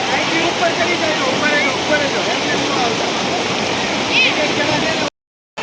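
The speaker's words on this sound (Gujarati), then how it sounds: "તો મિત્રો આ પાણી જાય છે" Water flows and rushes steadily near Khodiyar Mata temple at Venvala, a broad, close, loud gush that runs without pause before cutting out abruptly.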